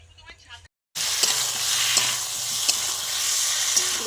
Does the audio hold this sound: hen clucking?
no